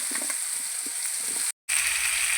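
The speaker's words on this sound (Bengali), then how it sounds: "গরম হয়েছে, দিয়ে দেবো একটা শুকনো লঙ্কা আর 5 ফোড়ন" A dry chilli and five-spice seeds sizzle in hot oil, a steady hiss with small crackles and pops, briefly cut to silence before the sizzle resumes.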